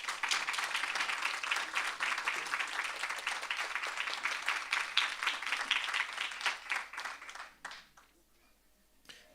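Sustained crowd applause at a student representative council investiture ceremony, dense clapping from a large audience filling the room for about seven seconds, then thinning to scattered claps and fading out.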